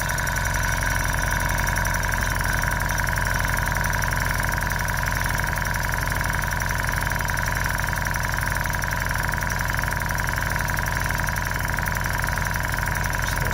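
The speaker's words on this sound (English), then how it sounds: "which is your constant pumping." Water pump running steadily in constant pumping mode, a loud, continuous mechanical hum and buzz with no breaks and no talk.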